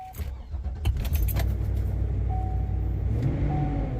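A farm truck engine with intermittent running trouble cranks and rumbles into life after sitting, a steady close engine roar with jangling keys at the start and no talking.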